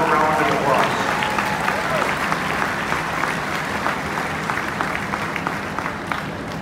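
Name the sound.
audience applause at Iowa State Fair cow show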